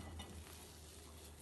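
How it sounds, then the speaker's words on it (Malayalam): Butter melting in a hot pan on the stove, giving off a faint, steady soft sizzle with a low background hum and no talking. "വെണ്ണ ഉരുകുന്നുണ്ട്."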